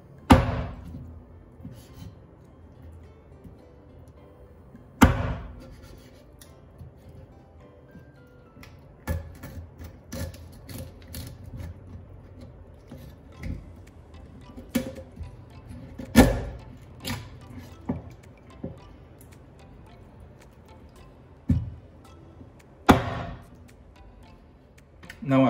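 Kitchen knife chopping through nodoguro fish bones on a board, sharp irregular chops and cracks spaced a few seconds apart, with faint quieter handling in between and no talking.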